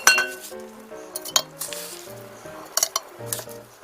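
Split green plums dropped and packed into a glass jar, giving a string of bright clinks and knocks of fruit against glass, close and fairly loud with uneven pauses and no talking.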